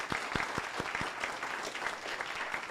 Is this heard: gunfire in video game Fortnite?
no